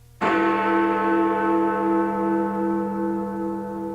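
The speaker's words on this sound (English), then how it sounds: "You'll know it's time to move on to the next part of the story when you hear the chime of Big Ben." Big Ben's deep bell strikes once, loud and close, its rich overtones ringing out and slowly decaying over several seconds with no other sound.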